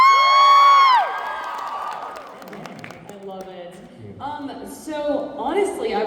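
Crowd at a fan expo panel cheering and whooping loudly for the first second or two, then fading into background chatter, with voices talking over it and a brief swell of cheering near the end.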